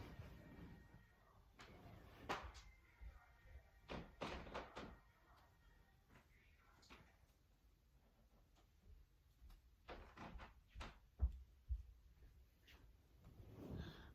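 A room door closing indoors, muffled loud music playing downstairs: a few soft thuds and knocks, faint and spread out over a quiet background with no speech.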